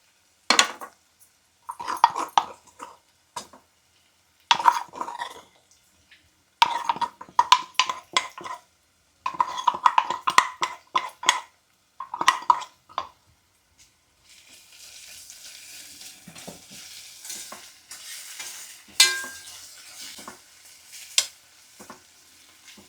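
Broad bean curry with pounded spices being stir-fried: bursts of metal spoon scraping and clanking against the pan, then a soft sizzling hiss in the final stretch, close by.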